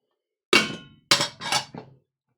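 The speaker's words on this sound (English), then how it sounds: "Beat it with a hammer." A hammer beats ice inside a canvas Lewis bag: four dull, crunching thuds, one alone and then three in quick succession, loud and close with no talk.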